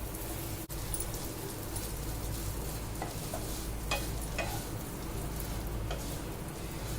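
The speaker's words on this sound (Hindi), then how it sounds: "इसमें और थोड़ा घी ऐड कर लिए हैं और ये सेवई को रोस्ट कर लेते हैं।" Thick vermicelli roasting in ghee in a pan, a soft steady sizzle with faint scraping stirs, quiet and close, no talking.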